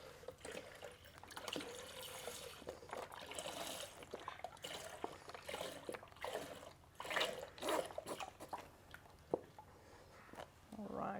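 Just over a litre of milk pours into a Thermomix bowl in a steady, gurgling liquid stream lasting several seconds, with splashy surges, heard close and fairly quiet.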